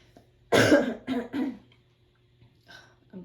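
Several close, harsh coughs in a quick cluster, followed by a softer cough after a short pause; no talking.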